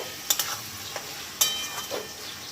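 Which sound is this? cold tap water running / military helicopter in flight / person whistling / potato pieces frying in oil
potato pieces frying in oil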